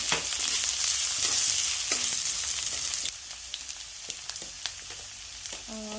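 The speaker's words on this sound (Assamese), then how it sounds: "মই আলুখিনি আগত ফ্ৰাই কৰি ল'ম" Potatoes fry in a pan with a steady close sizzle, occasionally stirred with scraping and clinks of a utensil against the pan; the sizzle softens halfway through.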